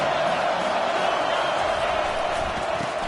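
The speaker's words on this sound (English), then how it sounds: "This crowd bringing the energy and noise early." A large home crowd fills a Michigan college football stadium with a steady, loud, broadband roar throughout, a dense wash of cheering with no clear pauses.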